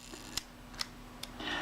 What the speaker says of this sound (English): So the shutter does work.